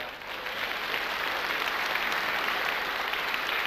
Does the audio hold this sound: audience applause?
yes